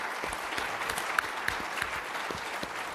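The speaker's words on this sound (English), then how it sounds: "let's have a round of applause for our panelists." An audience applauds panelists at a property markets event: steady, moderately loud clapping from a room of people with a few sharper individual claps standing out.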